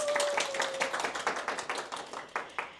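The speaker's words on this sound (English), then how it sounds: "Give it applause to our first speaker." A small audience at an alumni talks event claps for the first speaker: scattered, uneven hand claps that thin out into a few separate distinct claps toward the end.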